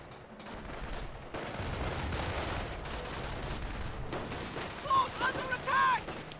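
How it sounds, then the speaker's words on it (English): Scattered small-arms and machine-gun fire in the World War II strategy game Company of Heroes, a continuous rattling battle din with distant bursts, plus a few brief tonal game alert tones near the end. "Our men are being fired upon."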